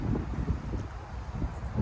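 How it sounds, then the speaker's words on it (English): Gusting wind buffets the microphone beside a commercial fishing lake in autumn, a low uneven rumble that swells and dips with the gusts, with no voices. "it's quite windy over here today"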